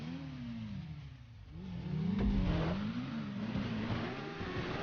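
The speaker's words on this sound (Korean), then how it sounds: "어디서 오토바이 엔진 들리는데 뒤에서?" Engine revving and accelerating in GTA 5 during a stunt motorcycle race, a steady mid-pitched drone whose pitch rises and falls and swells louder around the middle, heard alone without talk.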